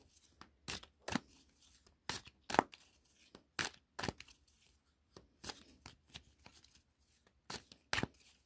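Tarot cards shuffled by hand, a series of sharp riffling bursts and soft flicks in an irregular rhythm over about eight seconds, close and fairly quiet with no talking.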